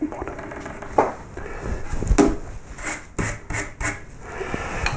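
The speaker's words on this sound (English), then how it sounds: "back to a flat gouge to clean up the bottom like that, using that like a knife down the bottom" A flat gouge cutting and scraping along the bottom of a wooden candle holder, with close scratchy strokes and a few knocks of wood in an uneven rhythm.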